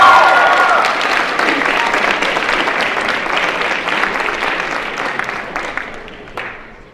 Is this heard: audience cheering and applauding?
yes